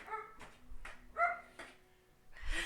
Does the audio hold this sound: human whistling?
no